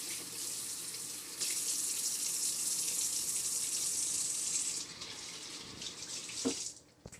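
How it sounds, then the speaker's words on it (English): Liver being rinsed under a running kitchen tap, a steady broadband rush of water that stops briefly near the end, with a small splash or clatter before it fades out. "Then, so I just like to rinse it off."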